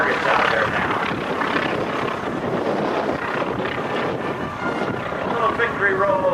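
A propeller aircraft flies aerobatics at an air show, its engine a loud, steady drone with shifting pitch and rushing wind noise, heard under a public-address voice.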